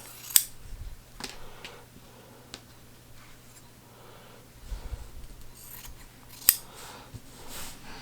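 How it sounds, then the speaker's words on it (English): Quiet, intermittent snips of scissors cutting folded fabric strips at the fold, a few sharp clicks spaced irregularly over near silence. "I'm going to use my scissors to cut at the fold here"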